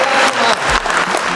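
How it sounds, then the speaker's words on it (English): Brief, loud burst of applause from an audience at a fundraising event, dense clapping filling the whole moment. "So we have a bit of a round of applause for these two."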